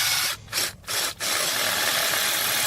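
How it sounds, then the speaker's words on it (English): Masonry bit in a Black & Decker power drill boring a small hole into tight stucco on a building wall, a steady close grinding whir broken by three brief pauses. "so you drill a little hole in here."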